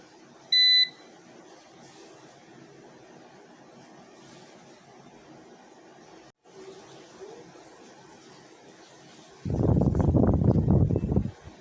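A single sharp electronic beep from a UPS power-backup buzzer, followed by quiet room hum, a faint thump, then a loud burst of rumbling noise near the end.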